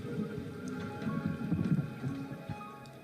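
A simulated rainstorm with thunder, heard through virtual reality goggles, makes a steady soft hiss of rain with low rumbling swells, faint and with no talk.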